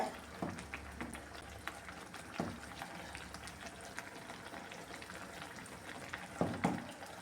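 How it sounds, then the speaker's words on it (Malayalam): Papadam curry bubbling in a covered pot, a steady low simmer with faint sizzling and a few clinks and thumps from a spoon or lid scattered through. "ഇതെല്ലാം ഒന്ന് തിളച്ചിട്ടുണ്ട്"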